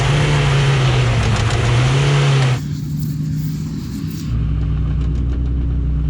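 A car engine in a hard-pulling race holds a steady mid-pitched drone that drops away abruptly as the gear changes, then picks up again at a lower, rougher tone, loud and close. A voice briefly speaks over it.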